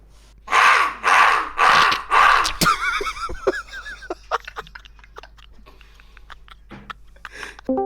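A person's voice imitates a crow cawing, with four loud, harsh caw-like bursts in quick succession, followed by quieter scattered clicks and mouth noises.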